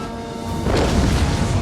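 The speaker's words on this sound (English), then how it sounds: "this giant ballista just put a few explosive rounds on them" Heavy explosive ballista rounds slam into infantry in a siege battle video game, a loud low boom that swells midway and rolls on as a sustained rumbling crash.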